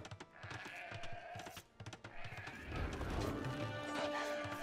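Sheep bleat among the bustle of units in the real-time strategy game Age of Empires II: Definitive Edition, with clip-clopping horse hooves and occasional whinnies in a dense, continuous game soundscape and no talk.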